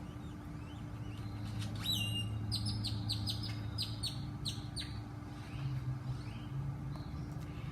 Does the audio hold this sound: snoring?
no